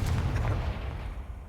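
A fiery Confringo blast in Hogwarts Legacy bursts with a deep, rumbling boom that opens loud and decays over about a second and a half, heard alone without talk.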